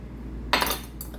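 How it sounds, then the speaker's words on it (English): Mashing potatoes in a pot, a short burst of metal scraping and clinking against the pot followed by a second quicker scrape, close up, with a low hum behind and no speech. "Mash this together."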